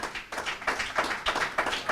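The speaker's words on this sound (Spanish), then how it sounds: "Si usted puede, darle una ofrenda de palmas al Señor." A church congregation claps together as an offering of praise, a fast run of sharp, dense hand claps in repeated bursts filling the room, with no voices over them.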